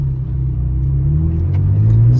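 A 24-year-old Ferrari engine runs steadily while driving just after a downshift into second, a close, loud, low mechanical drone with a slight rise in pitch as it pulls.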